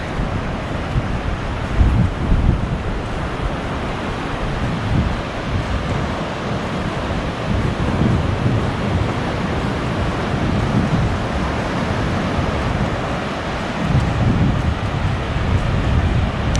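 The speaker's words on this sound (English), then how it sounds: "Let's just have a moment of ocean bliss." Ocean waves at Myrtle Beach wash in a continuous, loud roar, rising and falling in broad swells, mixed with strong wind buffeting the microphone and no talk.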